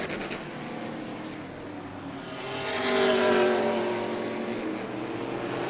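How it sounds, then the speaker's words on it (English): An E-Mod race car engine roars past at speed at New Smyrna, swelling louder midway then fading, with a rough, high-pitched whine against a background of crowd and track noise. "Jeffrey White's getting car number 41 wound up."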